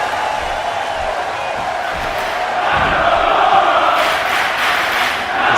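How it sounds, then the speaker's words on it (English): A wrestling crowd at a live match between Nakamura and Finn Balor cheers and roars steadily throughout, swelling louder toward the end as the arena tries to rally behind Nakamura. "Crowd trying to get Nakamura back into this one"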